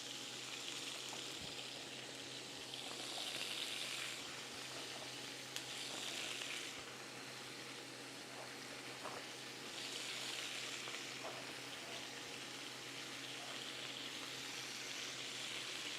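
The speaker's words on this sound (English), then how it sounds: "I'm going to cook the onions right in there." Onions sizzle steadily in a pan of rendered chicken fat for coq au vin, a soft continuous frying hiss with faint stirring clicks, alone and fairly quiet throughout.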